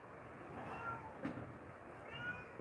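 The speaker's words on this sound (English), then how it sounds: "My cat's yelling at me." A house cat meows insistently, wanting water, in a couple of short calls at moderate distance over quiet room tone.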